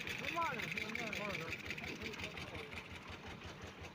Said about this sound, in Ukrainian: піду трішки газу скину на мотоблоці, тому що лампа може ще перегоріти